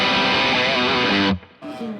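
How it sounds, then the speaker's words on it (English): An electric guitar plays through a new Fender distortion pedal set to a blended rock crunch, a thick, loud, sustained distorted chord that rings for over a second, then cuts off abruptly before a brief quieter distorted return. "you can take a brighter, cleaner distortion and blend it with a thicker, heavier distortion"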